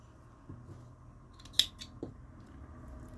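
Scissors cut yarn during crochet work on a checkered shawl, with one sharp, close snip standing out over a few softer handling sounds.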